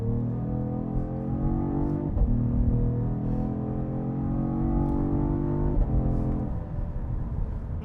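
Cadillac CT5-V Blackwing with a 3-liter twin-turbo V6 pulling hard under launch control, engine note rising steadily through gears with brief shift breaks, loud and close from inside the cabin.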